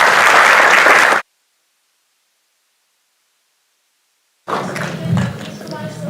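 A short, loud wash of audience applause at an inauguration of a business school's Centre for Ethics cuts off abruptly into silence, followed later by talking.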